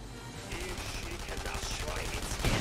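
Sustained rapid gunfire from The Saboteur video game rattles on throughout, dense overlapping shots and bursts at moderate distance, with voices faintly mixed in beneath.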